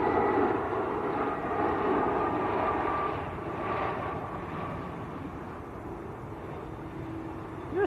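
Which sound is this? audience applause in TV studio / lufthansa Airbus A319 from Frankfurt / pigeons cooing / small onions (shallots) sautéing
lufthansa Airbus A319 from Frankfurt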